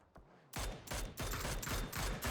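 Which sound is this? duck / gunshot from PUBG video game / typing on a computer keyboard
gunshot from PUBG video game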